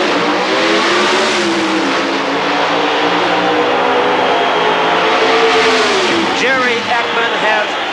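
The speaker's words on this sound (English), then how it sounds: "Jerry Ekman, the bright yellow Pontiac in the near lane, the blue and white Pontiac and old General Motors Pro Stock Final round" Pontiac Pro Stock drag race cars roar loudly and continuously at the launch of a final-round pass, engines wailing at high revs, with a commentator talking over them.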